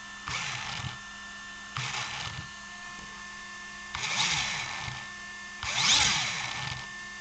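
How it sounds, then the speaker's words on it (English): On a Team Associated T7 RC stadium truck, a cooling fan rubs the slipper clutch adjustment nut as it turns, making four short whirring, scraping bursts with quiet gaps between, the last two louder. "That's what it sounds like I'm hearing, is that nut hitting something, because I can actually hear it as it turns."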